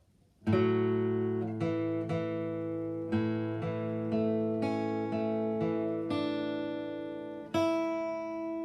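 Clean guitar notes ring out one after another in a slow, steady sequence, each plucked note sustaining and overlapping the next, with no talking.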